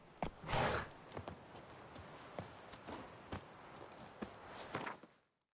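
Roach the horse's hooves clip-clop in a steady walking-to-trotting rhythm on the ground in the Witcher 3 video game, fairly quiet, with a brief snort or whinny early on and no speech.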